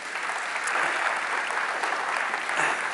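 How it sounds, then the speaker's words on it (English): A conference audience gives a steady, dense round of applause at an annual tech conference, a continuous wash of many hands clapping with no pause. "give Harrison a round of applause"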